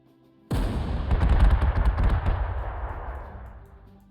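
A single heavy blast of unit gunfire in Panzer Corps 2 erupts suddenly after a moment of quiet, then rolls on in a long, rumbling decay with no voices.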